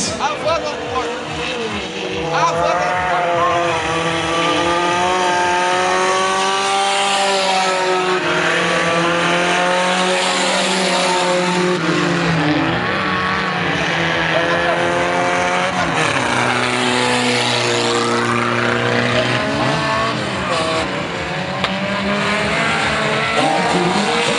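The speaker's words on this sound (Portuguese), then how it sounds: "O Jardim da cidade de São José estará na frente com o carro número 12" Race cars roar around a track in the Velocar final, engines droning and shifting pitch steadily as cars pass and chase, with a commentator talking excitedly over the continuous loud motor noise.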